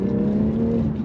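A BMW M240i with a B58 engine accelerates, its loud, steady exhaust tone droning close up for about a second.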